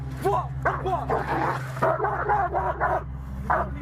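A dog yaps and barks in short repeated bursts over a steady low hum, close by and fairly loud.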